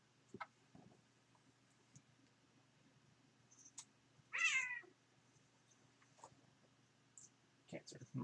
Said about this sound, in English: Cats are murdering each other in the background there.